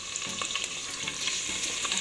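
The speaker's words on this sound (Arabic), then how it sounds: "هشوح اللحمة بتاعتي" Lamb meat sautéing in butter and ghee in a pan, a loud, close, continuous sizzle with quick crackles and spatula stirring scrapes, no talking.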